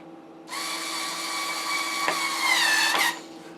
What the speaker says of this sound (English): I wanted to do, and that is ream out these string holes